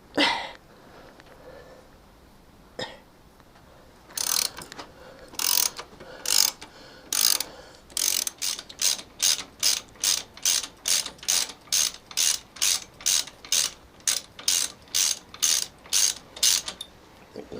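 A spanner's ratchet and pawl slackens a bolt on a Cub. Scattered clicks give way to a steady, close run of about two dozen sharp, evenly spaced clicks, heard alone.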